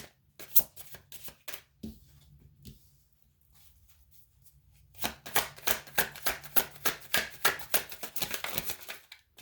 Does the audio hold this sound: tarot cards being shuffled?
yes